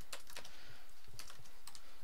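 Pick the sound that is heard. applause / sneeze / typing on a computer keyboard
typing on a computer keyboard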